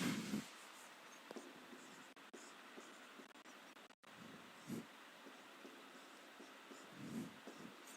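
Chalk or marker scratching across a classroom board in short strokes and taps, faint and close, with brief pauses and no talking.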